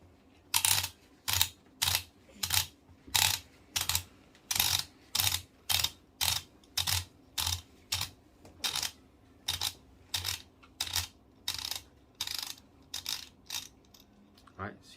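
A Millwright hand grinder clicks steadily as its top is unscrewed counterclockwise, about twenty sharp evenly spaced ratcheting clicks close up, slowing slightly and thinning out toward the end.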